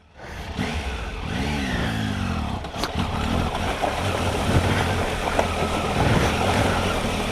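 A Triumph Tiger 800 motorcycle engine drones and revs while crossing the Jacks Fork River in Missouri, with water splashing and wind noise over the steady motor sound.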